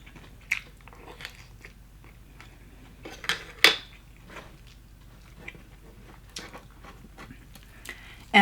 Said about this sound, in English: I'm going to try to do an ASMR of fried lobster.